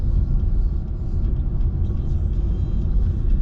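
A car driving along Murano Street, heard from inside as a constant low engine and road rumble with a steady whir, no distinct events and no talking.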